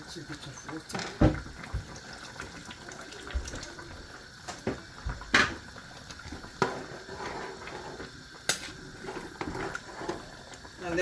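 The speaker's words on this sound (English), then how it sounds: "Add in a little bit of water." Water splashes and pours in short bursts into a pot of boiling oha soup with mackerel fish, heard under a person talking nearby, with clinks and knocks between the pours.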